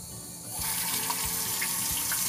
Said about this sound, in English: getting a little stream of water going